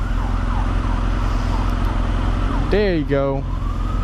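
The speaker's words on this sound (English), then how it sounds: "I hear a fire truck." A fire truck siren wails in traffic, steady at first and then sweeping up and down in quick whoops, heard over constant road and engine noise, with a brief spoken remark.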